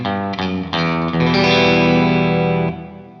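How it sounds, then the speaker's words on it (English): Guitar strums run through a spring reverb plugin on a Universal Audio Apollo, a few chords hit in quick succession then held, ringing with a splashy, metallic reverb tail that fades near the end, close and loud. "I want spring, so I'm going to go with that spring sound there"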